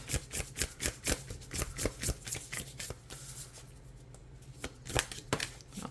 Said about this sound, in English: Let's get one more card for Donald Trump.